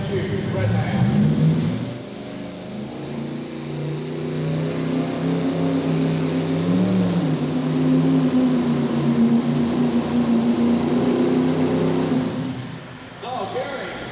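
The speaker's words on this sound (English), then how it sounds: "he made a nice run with that 3-engine Chrysler-powered tractor right there" A three-engine Chrysler-powered pulling tractor at a truck and tractor pull, roaring loud and steady with rising strain before cutting off near the end, under an announcer's voice.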